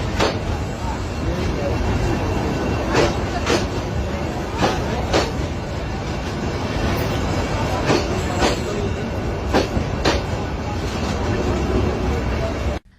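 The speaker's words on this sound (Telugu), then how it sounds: "పండ్ల దుకాణం ముంగలకెళ్ళి రైలు బండి పోతుంటే" A train rolls past right in front of a roadside fruit shop, a loud continuous rumble with repeated rail clacks and wheel noise, ending abruptly.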